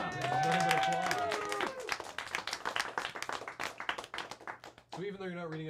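Rhythmic hand claps break out at a live charity telethon stream, crisp repeated slaps close by and mixed with excited voices, with speech carrying on over and after them.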